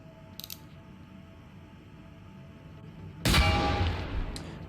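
A single sharp gunshot in a video game is fired at a security camera and rings out loud with a short echoing tail, preceded by a faint click earlier.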